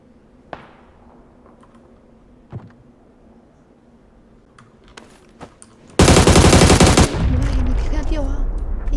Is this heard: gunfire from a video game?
yes